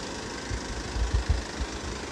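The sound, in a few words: engine of used Isuzu Elf microbus running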